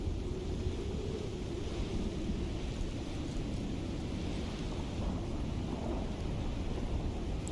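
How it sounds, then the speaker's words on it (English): A thunderstorm in the survival game Icarus: steady rain hisses across the whole stretch while low thunder rumbles underneath, a continuous even wash of sound with no speech. "Storm is almost over."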